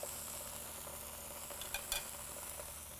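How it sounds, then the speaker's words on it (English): Two pieces of halloumi fry in sunflower oil in a pan, giving a steady, faint sizzling hiss with a couple of brief crackles near the end, and no talking. "I'm going to start by just putting a little bit of sunflower oil onto the pan, and I'm going to do 2 pieces of halloumi"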